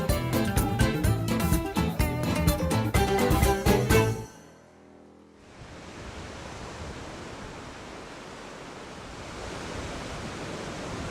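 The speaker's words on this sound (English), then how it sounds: "The waves of Sabang Beach attract surfers" Ocean waves and surf roll in at Sabang Beach in Baler, Aurora, Philippines. Music plays first, then cuts out into a brief silence, and a steady, moderate roar of surf follows to the end.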